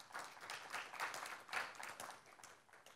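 Faint applause from a conference audience at a marketing event in Dubai, scattered claps swelling and fading over a few seconds.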